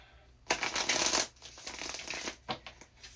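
A deck of chakra cards is shuffled close up: one long riffling burst, then a softer stretch of sliding and a few short flicks.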